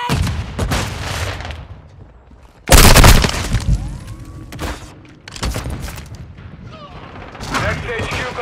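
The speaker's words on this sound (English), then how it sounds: "Throwing flash grenade!" A flash grenade bursts in Call of Duty: Modern Warfare II with a loud, sharp blast, surrounded by scattered gunfire and game battle noise, with voices calling out over the combat.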